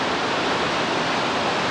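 Whitewater rapids of Lower Keeney on the New River in West Virginia, a steady loud broadband roar of churning water, continuous and uninterrupted.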